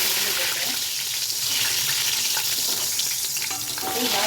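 Onions deep-frying in about 100 ml of hot oil for chicken biryani give a loud, continuous close sizzle with some stirring scrapes, and no talk over it.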